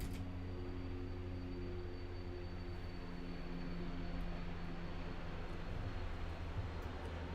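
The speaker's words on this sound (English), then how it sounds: "I got a helicopter over my place" Helicopter overhead, a steady low rumbling drone with even engine tones that holds constant throughout, moderately faint and distant, with no talking.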